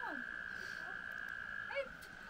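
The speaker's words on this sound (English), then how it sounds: "This water with the frogs singing is also known as" Frogs call by the Peddler River under a bridge on the Appalachian Trail, giving a few scattered croaks over a steady high insect-like trill, with a voice talking quietly in the background.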